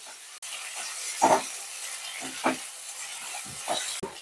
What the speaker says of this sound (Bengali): তো দু মিনিট ভাজা ভাজা হোক